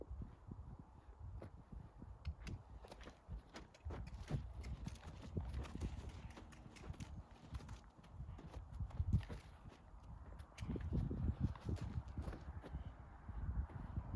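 A gaited horse under saddle walks steadily during a riding lesson, its hooves clip-clopping in a soft, continuous rhythm close by, with faint background noise and no clear talk.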